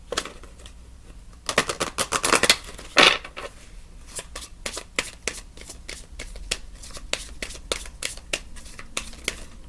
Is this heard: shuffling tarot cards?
yes